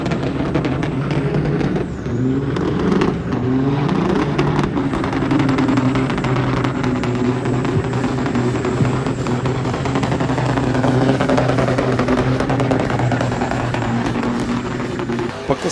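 Loud, continuous rumble of heavy engines and vehicle noise, with crowd-like chatter throughout, as a truck drifts and revs at a car show.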